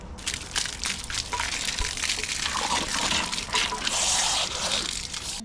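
Liquid gushes and splashes steadily while washing out a clogged part from a Honda CR-V that runs rough and stalls, a continuous close, loud rush of water with no talk.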